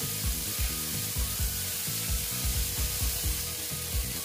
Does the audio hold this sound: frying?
yes